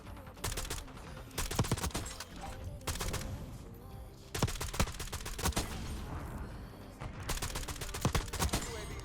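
Rapid bursts of FENG 82 light machine gun fire in a 10v10 video game match rattle in dense, continuous volleys with brief pauses and overlapping game effects, no voices.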